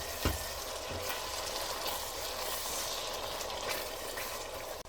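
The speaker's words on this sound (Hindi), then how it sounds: "लो फ्लेम पे हमने योगर्ट की भुनाई करनी है" Yogurt sizzles and fries steadily in a pan over a low flame, with a few soft stirring scrapes and clinks; close and continuous, no voices.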